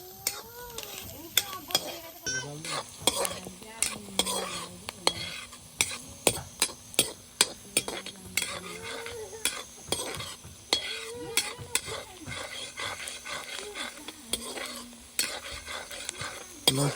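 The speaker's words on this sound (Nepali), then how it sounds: "ल साथीहरू यहाँ पाक्दैछ, प्याज भुट्दैछु म" Onions being fried and stirred with local village chicken meat in a pan, a steady sizzle broken by repeated scraping stirs of a utensil against the metal, close and continuous.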